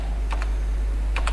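Typing on a computer keyboard while entering words into Microsoft Word, heard as two quick pairs of close key taps over a steady low hum, with no talking.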